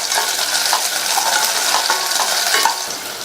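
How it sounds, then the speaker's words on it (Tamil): Onions and dried red chillies sautéing in hot oil, a steady bright sizzle with light stirring and scraping throughout, close and continuous with no talk. "2 கட் பண்ண காஞ்ச மிளகாய் சேர்த்துட்டு இந்த வெங்காயத்தை 1 நிமிஷத்துக்கு நல்லா எண்ணெயிலேயே வதக்கி விட்டுக்கோங்க"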